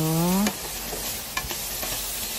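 Beef pieces for adobo made with Sprite sizzle steadily in a hot pan while being mixed, with a few soft scrapes and stirs; a brief tone sounds at the very start.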